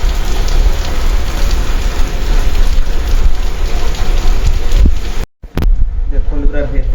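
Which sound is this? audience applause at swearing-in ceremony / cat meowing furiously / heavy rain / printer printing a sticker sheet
heavy rain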